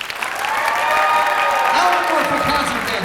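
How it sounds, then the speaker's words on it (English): An audience at a high school band concert gives a steady round of applause, dense clapping that holds loud and even, with faint voices underneath near the end. "So give her one more round of applause"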